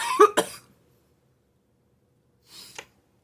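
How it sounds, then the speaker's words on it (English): Two sharp coughs close together from a nearby person, then a short silence and a softer throat-clearing cough, with nothing else around them. "Before I take a drink and start coughing to death."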